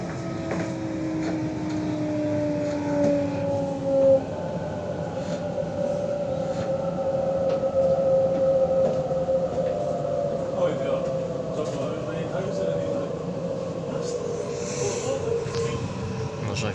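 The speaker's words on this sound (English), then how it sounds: "Trains now on approach to Mascot platform number 2." A Sydney Trains T8 Airport line train pulls into the dark underground Mascot station platform, a steady rumble with rising wheel squeal and a long tonal whine, under a platform announcement voice.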